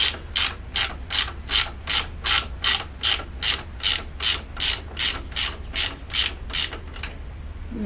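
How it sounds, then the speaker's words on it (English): A ratchet wrench undoing a nut on a 1987 CR 250 motorcycle, roughly fifteen evenly spaced rasping clicking sweeps in a steady rhythm, close and clear, ending with a quiet click. "Nut's coming off, which is good."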